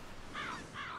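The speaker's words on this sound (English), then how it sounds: "Never really a Oh. good sign if there's too many crows, though." Two harsh caws from a crow, one after the other with a short gap, moderately near against a quiet outdoor background.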